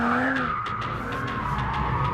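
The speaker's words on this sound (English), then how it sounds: "In M mode, it's even more of a tyre-smoking mentalist." A BMW 1M in M mode skids with its tyres squealing and smoking: a loud, continuous, screeching howl with a wavering pitch, close by and steady for the whole stretch, with no voices over it.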